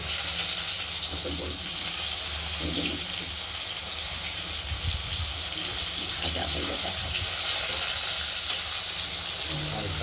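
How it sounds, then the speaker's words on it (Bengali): Continuous loud sizzling of salted, turmeric-coated pointed gourd frying in a wok, with faint clinks and stirring beneath the steady hiss. "ভেজে নিচ্ছি"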